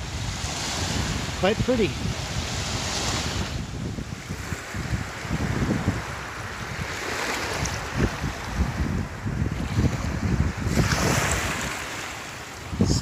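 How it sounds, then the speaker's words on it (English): Surf washing ashore on the Lake Michigan shoreline on a blustery day, with steady wind buffeting the microphone throughout and a brief spoken remark partway through. "And Lake Michigan once again on a sort of a blustery day."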